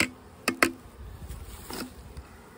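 A faint buzz of Italian and BC honey bees hums in the background, with a couple of sharp clicks and thumps breaking through.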